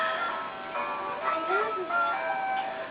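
Tinny dance music plays softly at home while a small girl named Holly dances, with voices talking over it throughout.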